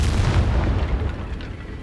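A Confringo spell explodes in a Harry Potter video game, a single deep booming blast that starts loud and rumbles away over about two seconds.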